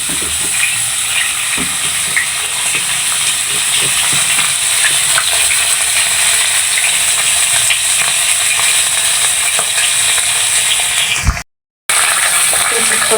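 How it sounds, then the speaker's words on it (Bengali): Bori, small lentil dumplings, frying in hot oil for a tilapia dish, giving a loud, steady, dense sizzle and crackle that continues without a pause until a brief cut near the end. "আমি বড়ি দিয়ে তেলাপিয়ার মাছ রান্না করব এখন বড়িটা আমি ভেজে নিচ্ছি"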